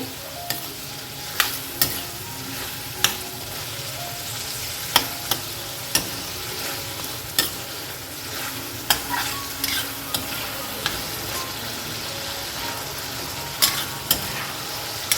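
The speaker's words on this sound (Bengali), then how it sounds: "ভালো করে মশলার সাথে কষিয়ে নিতে হবে দেখো মশলার সাথে কিন্তু চাল আর পটল দুটোই ভালো করে কষানো হয়ে গেছে" Rice and pointed gourd cooked down with spices in a pan, with continuous sizzling and frying under repeated sharp taps and scrapes of a spoon against the pan.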